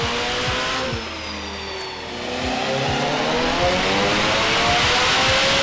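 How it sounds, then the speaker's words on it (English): A turbocharged Mazda RX7 rotary engine revs hard on a dyno, a loud, buzzy, sustained roar with rising pitch sweeps and crackles, close up and continuous with no talking. "we just got the car off the dyno and it made an amazing over 400 wheel horsepower"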